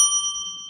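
A single bright, ringing ding from a pipe struck against a shot glass rings out close and clear, with pure sustained tones slowly fading away.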